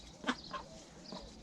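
A drake duck giving a few soft, low quacks, faint and at a moderate distance, in two short bursts separated by a pause.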